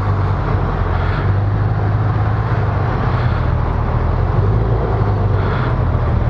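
A 2018 Honda Gold Wing motorcycle creeping along in walking mode, its engine a loud, steady, unbroken drone with low rumbling throughout and no talking.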